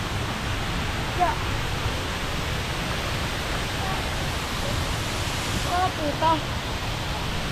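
A waterfall on a jungle hike to thirteen falls roars as a steady broadband wash of falling water, with a brief spoken exclamation and faint birdlike chirps over it.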